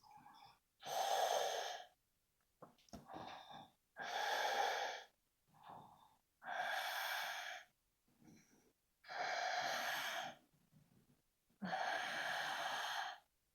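Slow, deep breaths during a gentle floor yoga session on carpet, five long inhale-exhale cycles with steady rhythm, close and clear, no talking.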